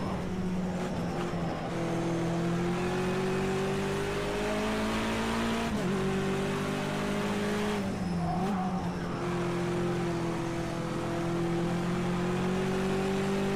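A BMW touring car in a SARCO S2 race howls around the track, its loud engine note climbing steadily through the revs with sharp dips at gear changes, alone and up close.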